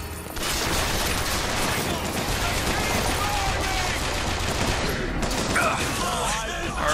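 Dense rapid gunfire and bursts in the video game BioShock Infinite, loud and nearly continuous throughout, with a person talking over the shooting.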